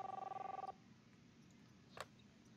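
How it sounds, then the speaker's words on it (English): House phone ringing with a fast warbling electronic trill that stops abruptly after under a second, followed by quiet room tone and a brief click, heard close but faint. "Oh, it's the house phone."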